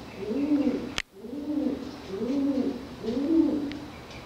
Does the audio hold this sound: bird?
yes